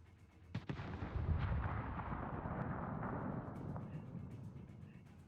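Naval gunfire and shell hits in World of Warships during a tournament match, a deep rolling boom that swells and slowly fades into rumble, with a few sharp cracks on top.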